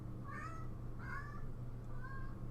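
A cat meows two or three times, short rising calls at moderate distance over a steady low hum with no talking.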